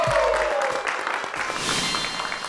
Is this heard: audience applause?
yes